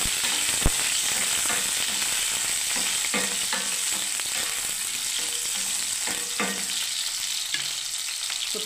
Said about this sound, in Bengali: প্রথমে এটাকে ভেজে নিচ্ছি বন্ধুরা